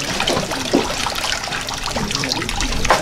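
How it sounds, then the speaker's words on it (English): Water draining out of a sifting screen at the Crater of Diamonds State Park, a steady gushing trickle with small splashes, continuous and close, no voices. "Drain the water out."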